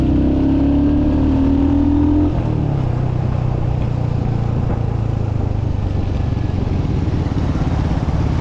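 A motorcycle or small vehicle pulls away as the clutch is let out, its engine note dropping from a held rev into a loud, steady rumble that continues at close range, with no talk.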